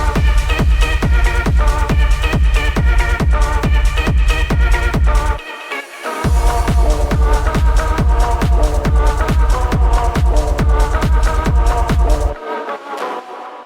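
A hard techno drop with overdriven kicks pounding in a fast, relentless four-on-the-floor pattern. The loud beat cuts out briefly midway, then slams back in before stopping abruptly near the end.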